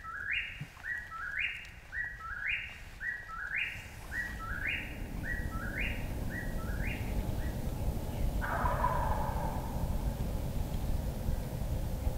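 Wild turkeys gobble in a repeated series of rattling calls, fairly distant, at a roost on a spring morning in Missouri, over a steady outdoor background hiss, followed by a broader burst of calling.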